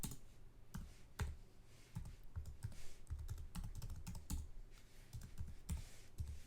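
Rapid, irregular clicking of keys on a computer keyboard as login credentials are typed in for a Florida fishing license account, close and clear with no talking over it.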